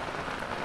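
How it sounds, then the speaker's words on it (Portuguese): Steady rain falling in Itaitinga, Ceará, a dense, even hiss of drops on surfaces with no breaks across the brief moment. "Olha como é que tá esse tempo aqui de chuva"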